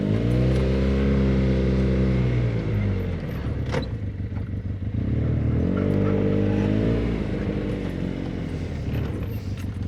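ATV or UTV riding a trail in Lincoln County, Wisconsin: a steady, loud engine drone with rising and falling pitch as the machine speeds up and slows, plus faint clatter over the terrain.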